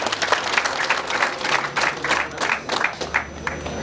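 Guests at a Rwandan wedding clap in a fairly rhythmic, steady pattern, a mid-distance crowd applause with regular accents and a low hum underneath, without talk.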